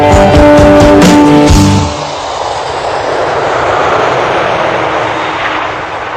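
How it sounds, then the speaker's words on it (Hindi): A jet airliner lands at Jaipur. Brief music fades out, and then a loud, steady, close roar of engine and rushing air continues to the end. "जहाज जयपुर में उतर चुका था।"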